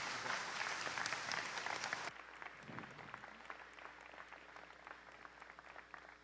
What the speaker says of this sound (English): Can we give Gary a big round of applause?